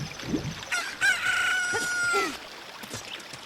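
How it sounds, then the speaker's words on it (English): A newly hatched chicken crows in The Legend of Zelda: Ocarina of Time, a single drawn-out cock-a-doodle-doo with a short cluck before it. It sounds clear and fairly close over light game background noise. "And your chicken hatched."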